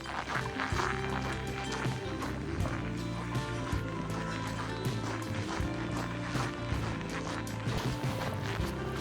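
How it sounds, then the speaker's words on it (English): Steady rhythmic footsteps crunching and squeaking on packed snow in freezing northern Minnesota winter, close and continuous, with a faint low rumble underneath. "it is so cold you can hear the snow. It just sounds like you're walking squish, squish"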